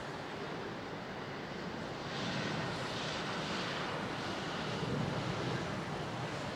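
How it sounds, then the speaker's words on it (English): A Delta airliner climbs steeply after takeoff at London Heathrow in the rain, its jet roar a steady, broad rushing hum that swells slightly partway through, heard from a distance with no voices. "Steep climb for that Delta 339."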